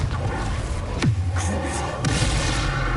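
Confringo blasting spell from a wizard video game, a sudden explosive boom with a falling whoosh, followed by a second lighter burst, over steady game ambience.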